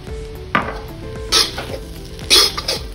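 Chicken chow mein is stir-fried in a pan with a sizzling bed of sound, broken by three sharp bursts of tossing and scraping spaced about a second apart.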